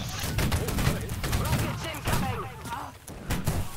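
Musket volleys in the game Holdfast: Nations At War, a line firing several ragged, booming rounds close by over a few seconds, with voices talking throughout.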